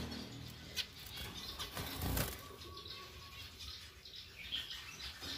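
Zebra finches flutter their wings inside a cage, with quick soft bursts of flapping close by and a few faint chirps, no talking.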